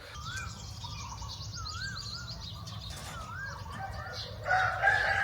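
A rooster crows in the distance over steady village morning ambience, its call repeating a few times amid other faint birdsong.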